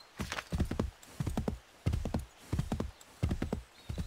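Horse hooves clop in the video game Assassin's Creed III, rapid irregular bursts of galloping footfalls in several clusters, fairly close and clear, with no talk over them.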